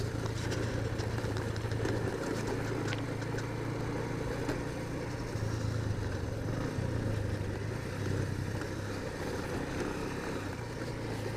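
Motorcycle idling on a roadside in Mustang after a misfire, parked and running: a low, steady engine hum holding at an even pitch, fairly quiet, with no talk over it.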